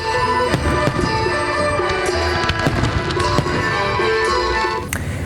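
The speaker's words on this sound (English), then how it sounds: "the event concluded with fireworks launched into the sky" Fireworks launched into the sky at the close of an event with a prize draw and horse racing: dense crackling bursts and sharp pops overlap continuously, loud and close throughout.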